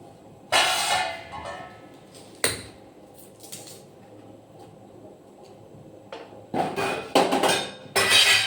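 Sharp knocks and clatters come in bursts with quiet gaps between, like a knife chopping vegetables on a kitchen counter.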